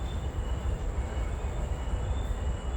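A train passes nearby with a steady, continuous rumble and a faint high whine running through it. No voices are heard.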